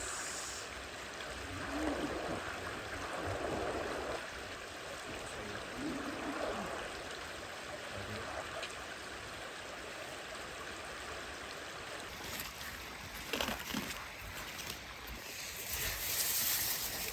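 Water flows steadily in an outdoor stream during wild mushroom foraging, a faint continuous rushing wash broken by a few brief knocks and splashes, with no clear talking.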